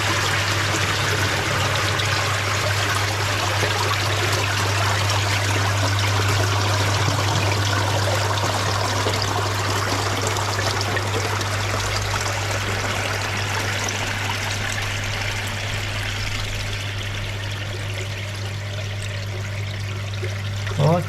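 Water floods through the bottom drain of a koi pond during a purge, a loud, continuous rushing stream that holds steady for about twenty seconds alongside a low constant pump hum.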